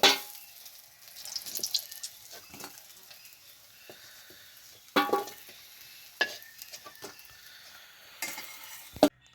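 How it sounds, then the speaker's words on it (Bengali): Taki fish frying in a pan gives a low background sizzle, interrupted by several sharp bursts of spatula scraping and clatter as the pieces are turned and lifted out. "মাছগুলো ভালোভাবে ভেজে নিলাম, এবার উঠাই নিচ্ছি"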